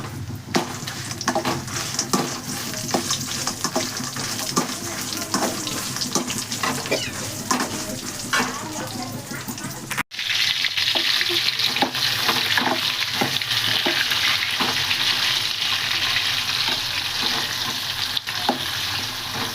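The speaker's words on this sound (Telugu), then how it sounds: "ఇక్కడ పచ్చడి చేసేస్తున్నానండి, టమోటా పచ్చడి చేసేస్తున్నాను అన్నమాట." Tomato chutney frying in a pan, a steady dense sizzle with frequent stirring scrapes, close and continuous for the whole stretch, brightening to a stronger hiss in the second half.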